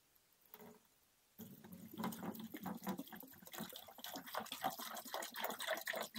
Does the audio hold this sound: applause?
no